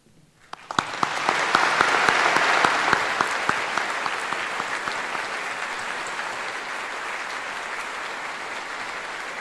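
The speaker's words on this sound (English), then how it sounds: "we'll clap for them when they're all up on stage" Audience applause at a high school graduation commencement ceremony: a large crowd breaks into sustained, dense clapping that swells quickly and holds steady for several seconds, with no talking over it.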